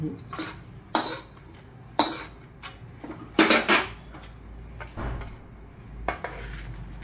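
Whole spices dry-roast in a pan on a gas stove over medium flame, with a series of sharp metallic clinks and scrapes of a utensil against the pan at irregular intervals over a quiet background.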